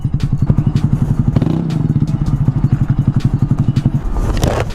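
A Honda Grom motorcycle engine runs close by with a steady, rapid pulsing beat and a loud, even chug. The beat breaks briefly near the middle and rises slightly toward the end.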